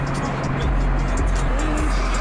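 A Toyota Supra drives nearby with a loud, steady engine rumble and a low drone throughout, while people talk over it.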